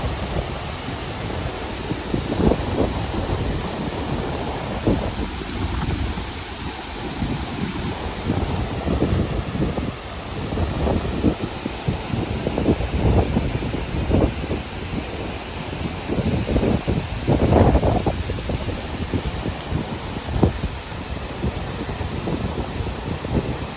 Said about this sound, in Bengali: এখান থেকে পুরো জলের ছিটে আসছে আমার গায়ে